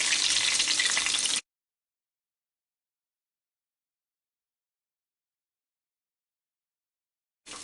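Minced-meat kebabs fry in a pan with a loud, dense sizzle that cuts off after about a second and a half, then long silence before the sizzle returns briefly at the very end.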